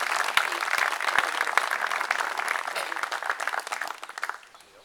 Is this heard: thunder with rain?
no